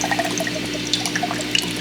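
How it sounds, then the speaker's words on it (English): Water drains out of a coconut through two drilled holes, a light continuous trickle with small splashy drips, close and fairly quiet with no talking. "Let's go ahead and drain the water."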